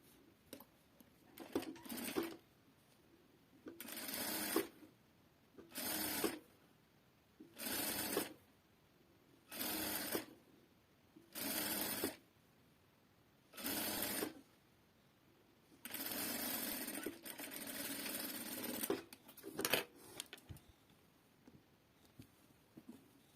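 A sewing machine stitches fabric to lining at a 0.5 cm seam in bursts of a few seconds each, with quiet pauses between them and one longer run near the end, close and moderately loud.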